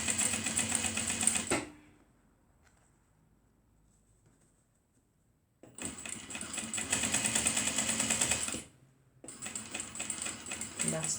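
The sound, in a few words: sewing a waist bag seam along the line, back stitching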